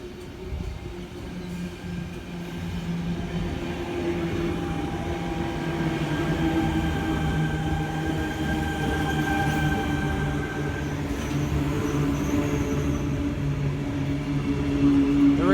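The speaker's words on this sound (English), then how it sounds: "T78 is the front half of this passing service." A Sydney passenger train rolls steadily past nearby with a continuous rumble, sustained tonal whine and metallic squeal, growing slightly louder toward the end, with no talking.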